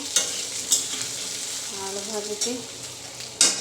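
Potatoes sizzle steadily in hot oil in a pan, with sharp scraping clinks as they are stirred; a faint voice murmurs briefly.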